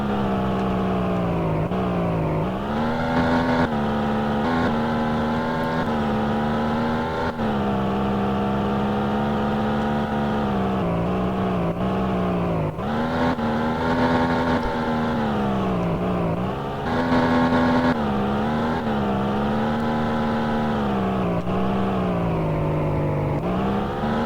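A vehicle engine in the Roblox video game drones loudly and continuously, its pitch rising and falling in repeated revving swells throughout, with no talking over it.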